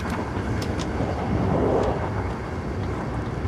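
Aboard the Orient Express, a constant low rumble of the moving train fills the carriage, with faint rattles and clicks over the steady roar and no one speaking.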